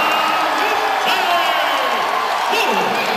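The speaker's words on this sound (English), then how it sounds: "This crowd is into it now." Basketball arena crowd cheering and whooping in a continuous roar, with an announcer talking over it.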